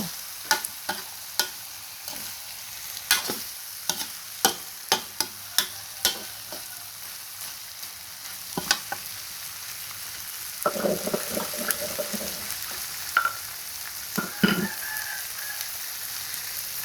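Catfish stir-frying in a pan with dried chili and holy basil, a low background sizzle broken by a string of sharp, regular spatula scrapes and taps, followed by louder bubbling crackle and clatter later on.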